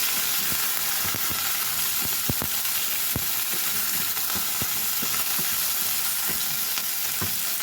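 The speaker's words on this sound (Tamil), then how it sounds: "இப்போது நான் வெட்டி வச்சிருக்கிற வெண்டைக்காயை சேர்க்கிறேன்." Chopped okra frying in a pan with fenugreek for a mung bean milk curry: a steady, dense sizzle runs throughout, broken by scattered clicks and scrapes of stirring.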